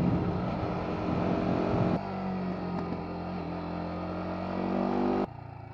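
BMW G 310 R motorcycle from 2021 rumbling steadily at close range with a continuous exhaust drone, the tone shifting partway through and dropping near the end, with no distinct pops standing out.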